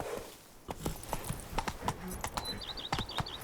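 Hooves of the horse Roach clip-clop in a steady trot through The Witcher 3, a run of evenly spaced close strikes with a faint whinny-like tone near the end, no talk over it.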